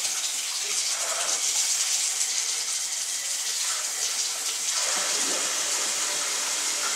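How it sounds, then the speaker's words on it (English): Water gushes from a faucet to rinse out a reverse osmosis filter housing, a loud steady splashing rush that shifts in tone partway through. "We'll rinse all that out here."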